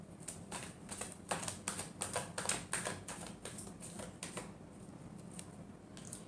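Tarot cards are shuffled by hand in a quiet room, giving soft, rapid riffling taps and flicks in uneven bursts over several seconds.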